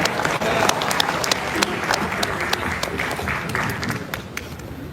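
A crowd at an Indonesian volunteer rally applauds, dense clapping sustained throughout, fairly loud and close, with sharp individual claps standing out from the wash.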